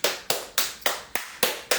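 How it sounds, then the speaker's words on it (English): A pair of hands clapping in a steady rhythm, seven crisp claps about a quarter second apart, close and moderately loud with a short ring after each and no voices. "Let's clap our hands together."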